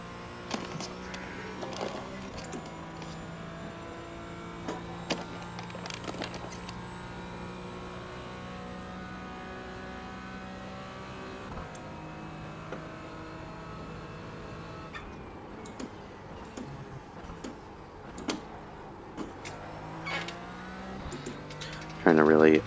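A race car engine at VIR in a racing sim whines through rising and falling gear pitches, with shifts and throttle changes over a steady tonal drone, while someone talks over it.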